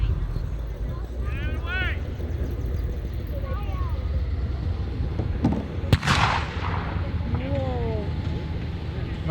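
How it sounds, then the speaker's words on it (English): Small arms gunfire crackles during a WWII reenactment battle with a Sherman tank and M18 Hellcat, sharp scattered shots over a steady low engine rumble, one loud close report standing out, with whistling chirps and no talk. "we're starting to hear small arms fire now"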